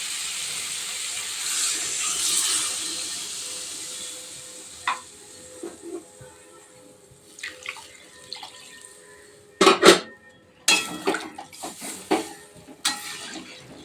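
Water poured into a pan of spice-fried potatoes, first a broad hissing rush of steam and splashing, then quieter bubbling, followed by several sharp clatters and scrapes of a utensil against the pan.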